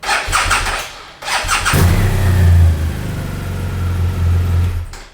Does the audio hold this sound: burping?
no